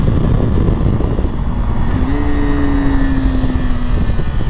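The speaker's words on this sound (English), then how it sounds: "Love rev matching on this bike." A motorcycle engine revs loud and close, with a rising blip as the rider rev-matches a downshift, set against steady wind and road roar.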